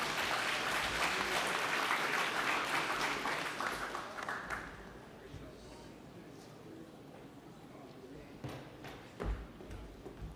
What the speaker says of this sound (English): Please, another big round of applause for Joshua